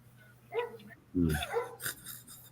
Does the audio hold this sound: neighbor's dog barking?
yes